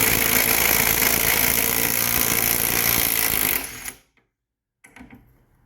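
An impact wrench rattles out the plugs of a pressure washer pump with a brass head, a loud, steady close hammering burst for several seconds that stops abruptly, then a faint short clunk, with no speech.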